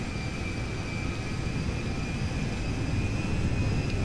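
A U.S. military C-5M Galaxy transport plane in GTA V taxis and slowly turns on a small runway, giving a steady, loud jet-engine rumble with a faint high whine and no pauses.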